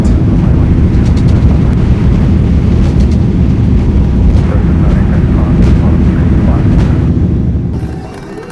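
Airliner engines roaring at takeoff power in an Airbus A330-900neo flight simulator, a loud constant broadband rumble that fades slightly at the end, with faint voices mixed in.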